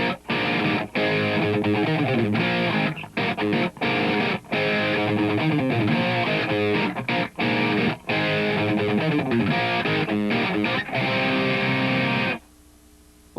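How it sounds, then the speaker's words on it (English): An electric guitar plays a choppy riff with a shimmering, warbling chorus effect and no reverb, strummed chords cut by brief gaps, ending abruptly. "I've turned the reverb off and turned a lot of the chorusing on to get this sound."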